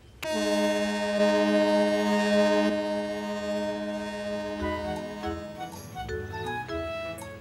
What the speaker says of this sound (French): il laissa même Caillou faire retentir la sirène